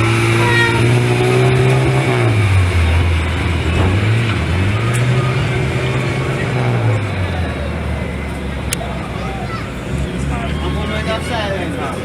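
A loud, powerful drag racing car engine idles and revs up and down nearby at a test-and-tune drag meet, with crowd chatter mixed in.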